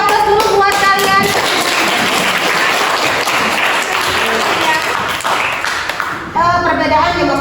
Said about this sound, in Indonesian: Kita kasih aplaus dulu buat kalian